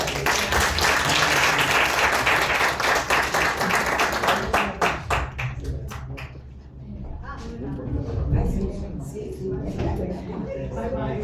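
An audience at an art talk applauds a departing speaker, a dense burst of clapping that thins into scattered claps while people shuffle, move about and murmur.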